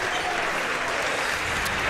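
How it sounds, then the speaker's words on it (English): Basketball fans on both sides of the arena stand and applaud, a continuous full wash of crowd clapping with a faint whistle near the end. "as the fans all stand and applaud on both sides"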